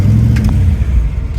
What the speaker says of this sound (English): well, listen to all that. What a great exhaust note, huh?